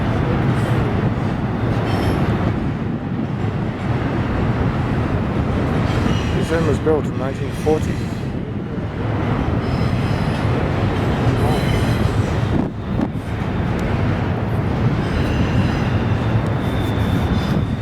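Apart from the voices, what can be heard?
train crossing railway bridge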